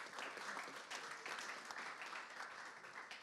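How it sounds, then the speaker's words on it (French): Steady, fairly quiet audience applause fills a hall, a continuous patter of many hands clapping with no voices over it. "oui, on peut applaudir, je pense."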